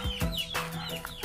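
Chickens cluck close by in a quick series of short, sharp calls, several overlapping clucks spread across a little over a second.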